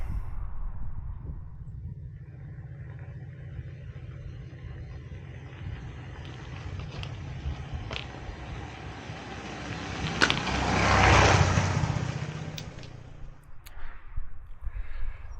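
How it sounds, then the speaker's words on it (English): A Beta Alp motorbike rides over bumps, its engine running steadily with a low rumble while rattling knocks mark each bump, building to a louder surge before easing off. "the bike itself seemed to ride over the bumps rather than crashing through them"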